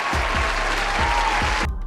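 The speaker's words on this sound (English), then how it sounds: "Let's clap it up for him." A crowd applauds, a dense, steady wash of clapping that runs the whole short moment at even loudness before cutting off abruptly.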